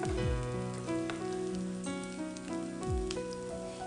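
Hot oil sizzles steadily as onion fritters (bajji) fry in a home kitchen, a continuous close crackle lasting throughout, partly blended with sustained tonal background sounds and no talking.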